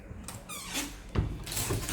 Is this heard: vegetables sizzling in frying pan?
no